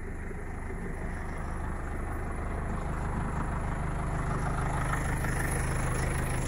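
A Randon RK 406B backhoe runs while digging a cut, its diesel engine holding a steady, close, continuous drone with a low rumble and no noticeable changes in pace or any voices.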